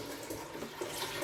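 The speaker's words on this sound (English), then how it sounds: "I'm going to go ahead and add the 1 litre of cold water" Cold water, one litre, poured into a bottle for a brewing mash, making a steady, close splashing gush that runs unbroken for about a second with no voices.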